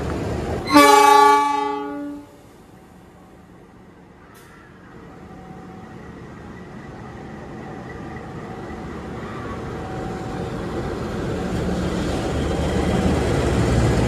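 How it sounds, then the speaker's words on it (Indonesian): A locomotive's loud horn blast sounds briefly up close, then gives way to a steadily building rumble of the engine rolling in on its way back to the Cipinang depot after duty. "Ini lokomotif pulang Depo ke Cipinang ya, habis dinas"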